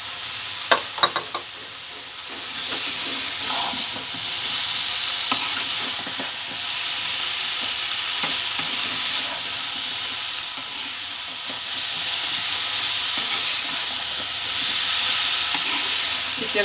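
Vegetables and spices for a rui fish curry fry in a pan with a steady, close sizzle, while a spoon stirs and scrapes with occasional clinks; no one speaks.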